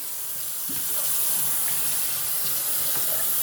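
Water runs steadily from a tap while a puppy is bathed, giving a constant close hiss and spray with faint splashes underneath and no talking.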